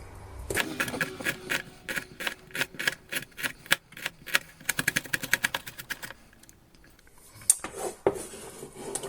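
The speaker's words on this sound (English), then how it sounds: "I'm going to finely chop it" A knife finely chops an ingredient for an Andalusian-style Spanish omelette on a board, rapid close taps running in quick bursts, speeding into a dense flurry before a few final heavier knocks, with no talking.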